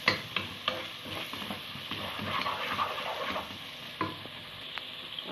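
Onion sizzling with spices in a pan for Egyptian turmeric rice, stirred a couple of times, giving a steady close fry with soft scraping knocks from the spoon.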